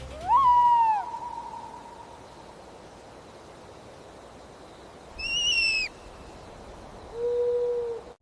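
A screech owl gives three separate calls: a falling whinny near the start, a higher quavering note midway and a softer low call at the end, each clear and fairly close against quiet background noise.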